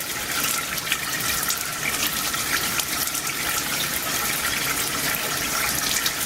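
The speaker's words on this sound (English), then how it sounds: "we want to open up the ball valve slowly. And we want all the oil to drain into the tank." Oil rushing steadily through a slowly opened ball valve into a ZECO PRO 3 tank, a loud, continuous gushing pour like a running tap, with no talking.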